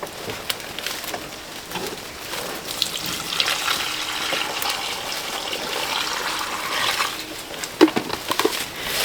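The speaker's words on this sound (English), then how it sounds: "I want to put the water over there." Water is poured out for pastured rabbits, a steady, moderately loud splashing gush that runs continuously, with a few sharp clicks near the end.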